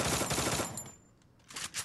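Rapid automatic XM8 rifle fire from the video game Free Fire crackles in a dense burst, pauses briefly, then resumes with a shorter volley, loud and close.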